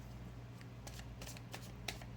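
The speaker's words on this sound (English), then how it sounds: "I'm just going to shuffle the cards." Tarot cards are shuffled in a few quick riffling bursts, soft and close, over a low steady background hum.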